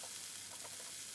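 Potatoes sautéing in oil spread across a pan, a steady soft sizzle and crackle throughout with faint stirring, no voices.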